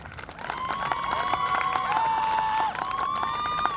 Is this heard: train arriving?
no